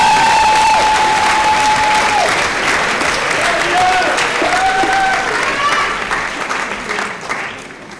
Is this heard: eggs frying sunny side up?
no